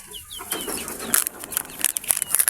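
Chicks being given medicine with a syringe peep with high, brief chirps that repeat through a busy, clattering background.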